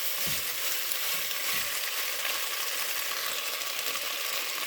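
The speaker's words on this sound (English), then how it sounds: "This is just going to be a meat and potato kind of stew. It's browning up nicely, almost ready." Meat and potatoes for an Irish stew sizzle and fry steadily in a stew pot, a constant close crackle with a few low stirring knocks, no voices.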